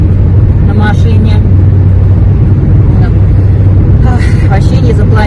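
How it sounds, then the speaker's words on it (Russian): Steady low engine and road rumble from a car driving along a road toward a village in Russia, continuous and close, with people talking over it at times. "Едем в деревню едем по Вемблен на машине."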